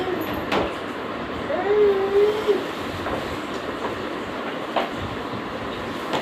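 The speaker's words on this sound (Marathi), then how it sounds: "हां गाडीचा आवाज" A passing train gives a moderate rolling rumble with periodic clicks from the wheels over rail joints and a brief squealing tone in the middle, heard at a distance with little talking.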